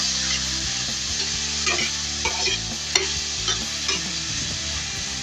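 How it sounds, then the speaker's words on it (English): Garlic and vegetables sautéing in a pan, stirred now and then, with a steady sizzle and light scraping clicks. No one speaks over it. "And I'm just going to let that all saute"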